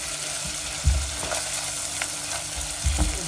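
Onion and half a hot chili pepper sizzle steadily in a hot pan, with a few louder stirring scrapes and clinks breaking through the continuous frying hiss, close up and without talking.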